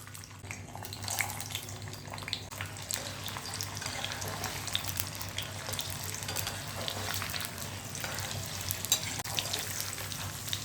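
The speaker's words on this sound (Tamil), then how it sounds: "அந்த மொச்சையை இப்போ எண்ணெயில் போடுறேன் பாருங்கள்." Soaked, peeled field beans (mochai) fry in hot oil, giving a steady, dense bubbling sizzle with faint crackles that continues evenly throughout, heard close and without voices.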